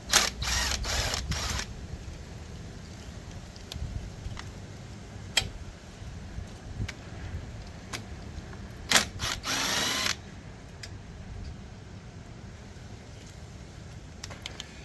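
Screws being driven out of a lawn mower carburetor with a T20 driver: several short whirring bursts at the start and again near the end, separated by quieter stretches of small clicks and handling noises.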